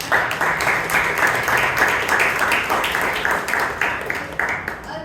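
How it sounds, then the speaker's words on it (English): Applause at a Bangalore Toastmasters club meeting, given to an evaluator. Many hands clap briskly and evenly close by, a continuous loud patter that stays steady throughout and tapers only slightly at the end. "Kindly give a huge round of applause to him."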